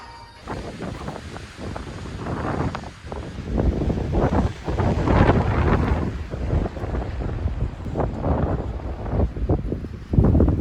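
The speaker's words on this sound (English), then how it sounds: "Oh, so windy." Strong gusts at Crater Lake buffet the microphone in loud, roaring bursts that rise and fall throughout, with no clear talking.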